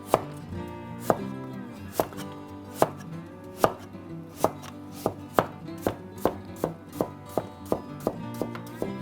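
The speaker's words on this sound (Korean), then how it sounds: "자, 무를 썰어 주세요." A knife chops radish on a cutting board for Korean beef radish soup, with a steady series of sharp, close knocks in a fairly even rhythm, speeding up toward the end.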